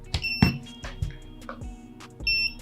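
A battery-powered beeper on a DIY FPV drone, a SpeedyBee Master 5 HD quad, chirps in short bright repeated beeps with clicky transients between them, close and fairly loud, after the power is unplugged.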